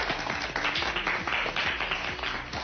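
Steady applause from a studio audience on a French TV talent show, many hands clapping continuously and fairly close, with no speech over it.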